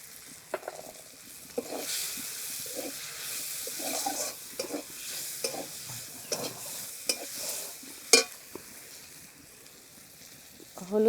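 Spices fried down in oil in a pan for a Bengali kuche fish (eel) curry, with a steady low sizzle and repeated short scraping stirs throughout, close and moderately loud.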